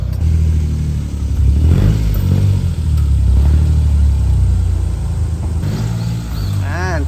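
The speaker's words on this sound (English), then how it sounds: "I can hear a turbo from this." Turbocharged car engine revving in a garage, a loud rough rumble rising and falling in several surges, with a whoosh of turbo flutter near the end.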